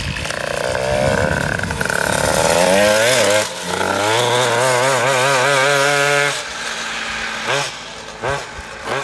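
A Peugeot 103 moped fitted with a Malossi 70cc kit running, its two-stroke engine buzzing loud and close, revving up in rising sweeps before settling to a rough idle that sputters toward the end.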